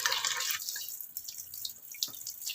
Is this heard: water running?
yes